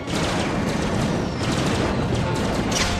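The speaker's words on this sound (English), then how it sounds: "Blasters at full power! Mass volley! Fire!" An animated volley of blasters fires in a dense, continuous barrage of rapid crackling shots and bursts, loud and unbroken for the whole stretch.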